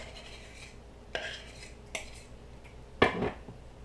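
Coconut oil being worked into a grease patty mixture in a bowl, heard as three sharp scraping clinks of a utensil against the dish, spaced apart over a quiet background.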